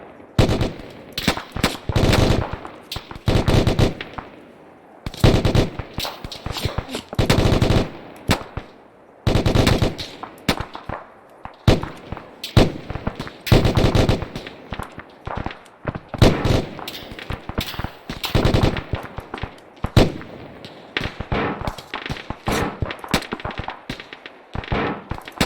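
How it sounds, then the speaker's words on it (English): Gunfire in an Arma 3 modern military simulation battle: sustained machine-gun bursts and rapid rifle shots crackle in dense, repeated volleys with short pauses, loud and close throughout the scene. "They're shooting at us from that house right here, too."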